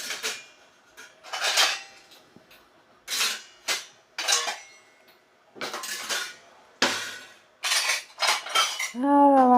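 Dirty steel utensils from the night before handled in a home kitchen, a series of close, bright clinks and clatters in irregular bursts, ending with a ringing metallic tone as a pot settles.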